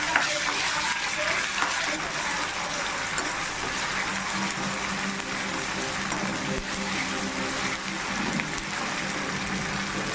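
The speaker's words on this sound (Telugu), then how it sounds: "1 స్పూన్ అల్లం వెల్లుల్లి పేస్ట్ ఫ్రెష్గా దంచుకున్నాను ఫ్రెండ్స్. స్మెల్ పోయేదాకా దోరగా వేయించుకోవాలి." Ginger garlic paste sizzles steadily in a hot pan, a dense continuous crackle with occasional stirring scrapes, close and even throughout.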